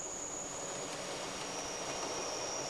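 Glacier Express train running along a Swiss mountain railway past the Albula line, a steady broadband rumble of the carriages with a thin high whine from the wheels, continuous and even throughout.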